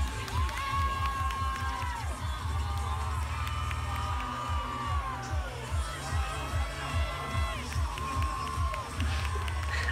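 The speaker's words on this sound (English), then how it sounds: "I love how you can see the people cheering us on." A crowd cheers and shouts at a cheerleading competition over loud, pounding routine music, with whoops and children's voices rising in bursts.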